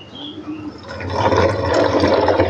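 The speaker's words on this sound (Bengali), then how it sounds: "তো পানি ঢালতে হবে একদম বিশুদ্ধ পানি, পরিষ্কার বিশুদ্ধ পানি। এই যে ঢেলে দেবো।" Clean water is poured into a powder mixture for a farm mosquito and fly repellent, a splashing pour that starts softly and grows to a steady close gush.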